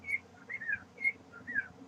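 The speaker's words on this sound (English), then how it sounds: "he wants to teach everyone how to whistle" A person whistling a short melodic phrase, clear and fairly close: a few bright, sliding notes repeating in a loose rhythm, with no one talking.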